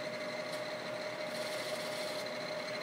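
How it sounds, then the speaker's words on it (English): A Milltronics 3-axis CNC bed mill spindle running at 1200 RPM gives a quiet, steady mechanical hum with a faint high whine, unbroken for the whole stretch and with no talk over it. "It's a very quiet spindle."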